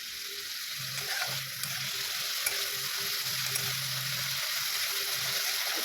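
Food frying in a kadai, a soft continuous sizzle with occasional stirring scrapes and low clinks, fairly quiet and steady throughout with no talking.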